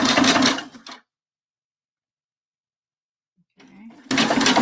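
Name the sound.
sewing machine stitching bra fabric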